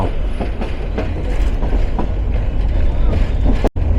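A local commuter train rumbles into Dewanganj Bazar railway station, its wheels clattering in a steady rhythm with a loud close roar and brief sharp knocks, voices audible beneath the noise.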